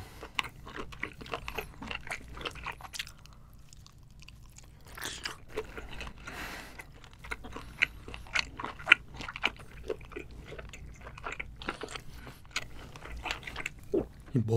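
Seafood is bitten and chewed during a mukbang, with close, wet crunching and chomping bites repeating irregularly throughout, fairly quiet, with some soft talk at moments.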